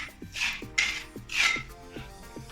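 A metal scraper rasps rhythmically across crack filler on a water-damaged bedroom wall, repeated close strokes of gritty scraping with short clicks as the blade lifts, no voices.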